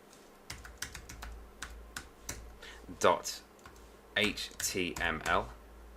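Computer keyboard being typed on to enter a file name, a quick run of separate key clicks, with someone talking over the last few seconds.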